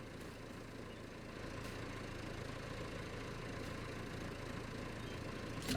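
A tractor engine idles steadily in Farming Simulator during forestry log work, a constant low rumble running alone throughout with no voices, swelling slightly louder at the very end.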